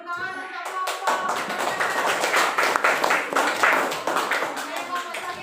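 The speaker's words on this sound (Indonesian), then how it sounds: "tepuk tangan untuk kelompok" A classroom group of students claps in applause, a dense run of quick overlapping hand claps that rises after a brief lead-in and carries on steadily, with voices mixed in beneath.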